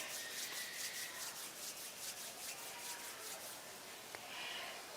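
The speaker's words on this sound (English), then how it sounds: "gently rub the palms of your hands against each other" At a meditation session, the palms of two hands rub gently against each other, making a soft, steady, close swishing friction that stays faint throughout.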